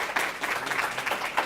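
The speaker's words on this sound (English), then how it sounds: "Can we have a big round of applause for Warrior Construction Company?" Brief audience applause at a career and technical education signing day, a short spell of fairly quiet, even clapping from a crowd.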